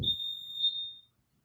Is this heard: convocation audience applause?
no